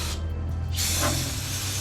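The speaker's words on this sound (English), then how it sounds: "I'll just spray some brake parts cleaner on the subframe where the oil kind of ran down from the filter." An aerosol can of brake parts cleaner sprays onto a car's oily subframe near the oil filter, a loud close hiss that starts after a brief pause and continues steadily to the end.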